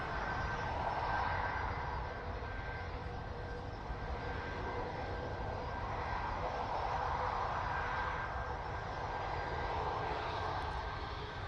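A Qatar Airways Boeing 787-9 Dreamliner takes off from Manchester Airport in gusty wind, producing a sustained jet engine roar with a thin high tonal whine. The roar swells and ebbs gently and is heard from some distance.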